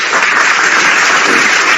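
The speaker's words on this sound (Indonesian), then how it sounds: "Siapa yang tepuk tangan" Dense, steady applause from an audience at a religious talk or debate, loud and continuous throughout with no voices over it.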